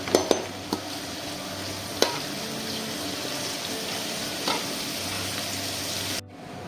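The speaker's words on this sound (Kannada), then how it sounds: "ಇದನ್ನು ಚೆನ್ನಾಗಿ ಮಿಕ್ಸ್ ಮಾಡಬೇಕು ಅದು ಈರುಳ್ಳಿ ಗೋಲ್ಡ್ ಕಲರ್ ಆಗುವ ತನಕ" Onions frying in oil with neem leaves and urad dal while being stirred, a steady close sizzle broken by a few sharp scrapes of the spoon against the pan, alone and without talk, for a traditional village Pathrode preparation.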